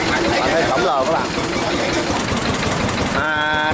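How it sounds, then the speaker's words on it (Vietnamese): An old Yamaha H20 diesel engine runs with a rough, rapid knocking chug. Someone talks loudly over it throughout. "Yamaha động cơ diesel"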